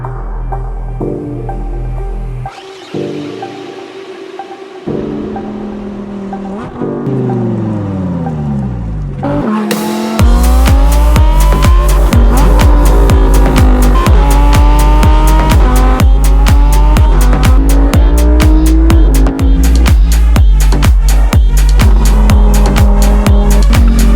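Lamborghini Huracan EVO driven hard on mountain roads, loud engine revving through rising and falling gear pulls, with sharp downshift blips and a dense, aggressive roar after a softer opening.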